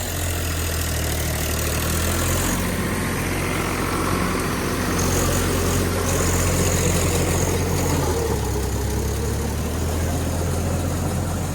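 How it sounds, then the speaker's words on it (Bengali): A Swaraj 744 FE 4WD tractor ploughs hard ground with a rotavator, its engine held around 1900 rpm in a loud, steady, close diesel drone with a deep low hum that shifts slightly under load. "উনিশশো আরপিএমের গাড়ি চলছে"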